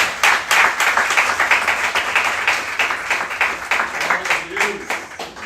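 A church congregation at a Nova Vida service claps steadily together for about five seconds, loud and close, with voices mixed into the sound throughout.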